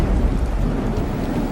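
A dramatized storm at sea roars with dense heavy rain and a rumbling thunder bed, loud and continuous with no talk.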